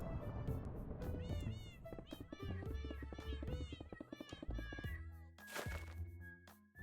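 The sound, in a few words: cat meowing effect in video game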